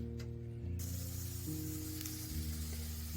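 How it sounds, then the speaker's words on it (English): Minced garlic sauteing in butter in a pan, a steady soft sizzle close by, faint beneath a continuous low humming tone. "So my garlic is sauteing nicely"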